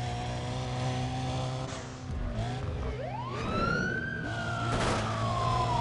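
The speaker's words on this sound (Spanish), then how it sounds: "Es un poli fuerte, es un muscle car." Police car siren in the NFS Undercover video game, a wailing tone sweeping up and down over steady engine drone, moderately quiet with no speech.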